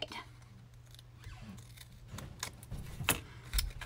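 Scissors snip through paper during a craft project, a series of close, crisp cuts with light rustling of the sheet, no talk heard.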